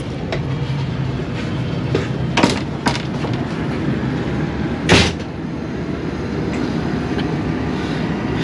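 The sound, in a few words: Bahauddin Zakaria Express train departing Shujabad railway station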